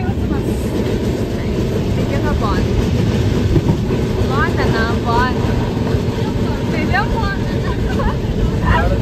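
A passenger train rolling along the rails on a trip to Kochi, steady loud rumble with rhythmic clickety-clack and squeals from the wheels, heard from inside the carriage while people talk over it.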